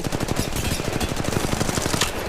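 Rapid automatic gunfire in the battle royale video game Apex Legends Mobile, a dense, loud, continuous stream of shots with no pauses.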